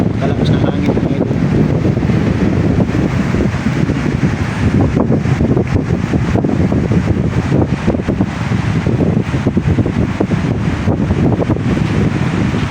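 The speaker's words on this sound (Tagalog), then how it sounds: "Kalakas na hangin mga idol." Strong, continuous wind buffets and roars across the microphone at the seashore, loud and unbroken, with a faint wash of surf beneath the gusts.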